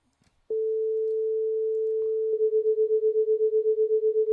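Steady pure electronic tone joined by a second slightly detuned tone, 432 against 440, producing a clear regular beating pulse of about eight throbs per second; no talking.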